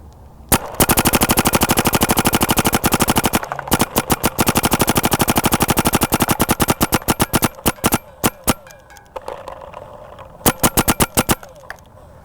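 A paintball marker on ramping mode fed by a Virtue Spire loader fires long, rapid strings of sharp pops at close range, then breaks into shorter, uneven bursts and single shots as the firing slows.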